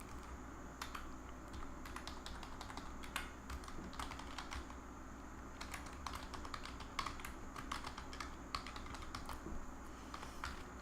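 Keystrokes on a computer keyboard as a Linux command is typed, light irregular clicks in short bursts over a steady low hum, fairly close and quiet, with no voices.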